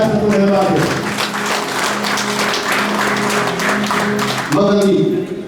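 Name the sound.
applause from wedding guests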